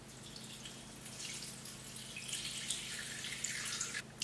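Water, 250 grams for a yeast dough, is poured into a Thermomix bowl, making a steady hissing, splashing trickle that runs throughout and grows a little louder toward the end, with no talking.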